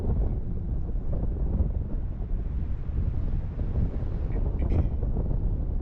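Strong wind rushes past while paragliding above a mountain face, a constant low buffeting roar across the microphone that never lets up.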